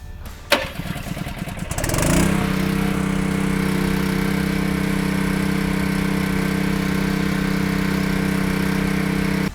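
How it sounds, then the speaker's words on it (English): A hydraulic power unit engine for a trailer power booster cranks and starts, then settles into a loud, steady close-up running drone for the rest of the clip. "we're going to start the power unit and we're going to move the valve to the unload position"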